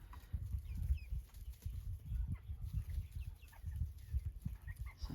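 Chickens, roosters and hens, in a backyard coop, low continuous clucking and shuffling from a small flock at close range, with faint occasional higher calls and no talking.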